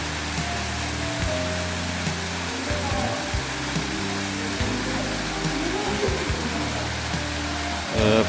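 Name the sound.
Deungseon first waterfall on Samaksan mountain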